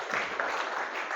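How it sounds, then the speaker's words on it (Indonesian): Applause from a classroom of students, a steady dense clatter of clapping hands lasting about a second, fairly loud and close. "Tepuk tangan dulu."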